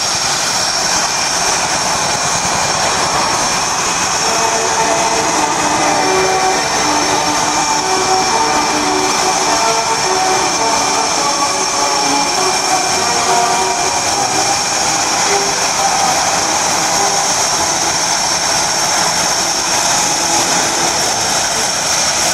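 Vietnam and Desert Storm combat veteran helicopters flying over an airshow in Rome, Georgia, a steady loud engine and rotor roar that holds for the whole stretch with no pauses.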